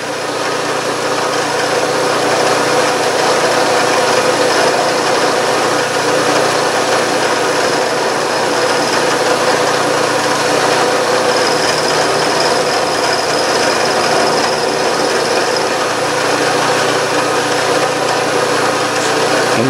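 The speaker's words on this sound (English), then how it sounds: "here I am milling with the side of the cutter." Steady, loud machining noise runs throughout: a continuous grinding whir of a metal cutter milling brass with its side on a milling machine, making tiny steam engine fittings, with no pauses or voices.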